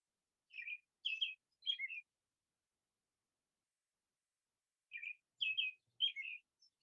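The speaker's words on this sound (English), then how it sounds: "Hear the birds?" A small bird chirps outdoors in two short bursts of three or four bright tweets separated by silence. The calls are faint and clear against a quiet background, with no talking.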